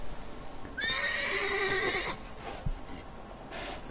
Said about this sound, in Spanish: Por suerte, en sus viajes, Geralt cuenta con la ayuda de su caballo Sardinilla.